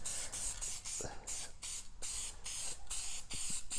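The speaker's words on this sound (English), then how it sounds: "So what I want to do is spray this" An aerosol spray can hisses in about eight short, evenly spaced bursts, close and steady, as it coats a white sand and acrylic fluid painting.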